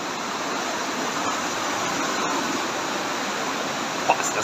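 Steady rushing water of a river flowing through the narrow rock walls of the Partnach gorge in the Alps, a constant close broadband roar with no pauses.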